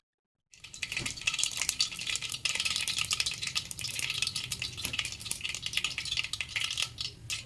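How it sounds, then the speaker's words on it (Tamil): Mustard seeds, cumin and urad dal crackle and pop in hot oil for a tomato chutney, a dense, steady spatter that starts abruptly after a moment of silence and stays loud and close. "எண்ணெய் காஞ்சதும் அதில் கடுகு சீரகம் உளுத்தம்பருப்பு இதெல்லாம் சேர்த்து தாளித்து எடுத்துக்கலாம்"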